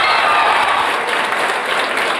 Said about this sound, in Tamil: தல ரசிகர்லாம் கைத்தட்டுங்க